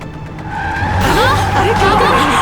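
A car's tires squeal as it skids to a stop during a tense roadside scene in a Turkish drama, a rising screech sweeping upward over an engine rumble, loud and close, with voices nearby.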